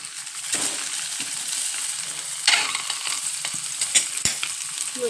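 Eggs drop into hot oil one by one, bursting into crackling sizzle with several sharp splatters and clinks over a steady frying hiss, close up and without speech.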